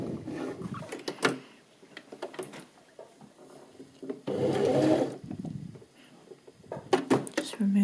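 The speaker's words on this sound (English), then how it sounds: "I'm going to sew that now." Sewing machine stitching a thumb hole cuff for a sweatshirt or hoodie: one short, steady run of the motor lasting about a second mid-clip, with a person talking before and after.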